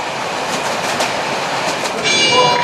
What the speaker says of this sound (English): A train going directly from Sarajevo to Belgrade